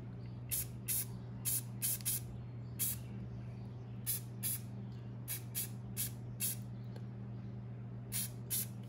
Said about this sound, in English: I've got a leafy green spray, and we're just gonna hit it lightly